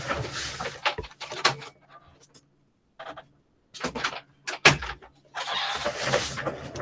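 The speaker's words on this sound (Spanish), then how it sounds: "Aquí abro la puerta." A door is opened indoors, with irregular clunks, rattles and knocks coming in bursts separated by short quiet gaps, fairly close.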